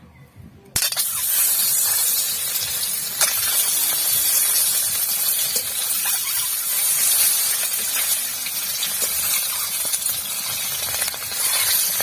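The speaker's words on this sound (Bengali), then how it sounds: "এখন আমি ডিমগুলো ভেজে নেব। তেলটা ভালো করে গরম হয়ে গেছে।" Eggs fry in hot oil in a kadai while making dak bungalow chicken, a loud steady hissing sizzle that bursts in suddenly after a brief quiet start and holds evenly for the rest of the clip.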